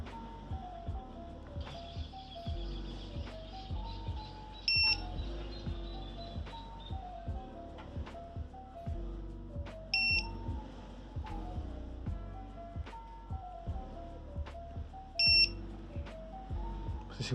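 A 4-inch long-range micro drone's flight controller buzzer sounds three short, piercing electronic beeps spaced several seconds apart, faint against a quiet background.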